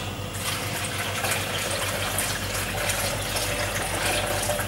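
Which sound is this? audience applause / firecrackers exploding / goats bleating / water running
water running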